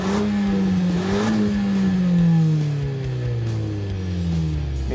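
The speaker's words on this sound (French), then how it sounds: "On peut simplement la laisser tirer vers soi et là la voiture rétrograde aussitôt qu'elle le peut plusieurs rapports." Renault Mégane GT 205 hp with EDC dual-clutch gearbox downshifting through several gears, the engine note blipping up with each shift then winding down, heard loud and close from inside the car.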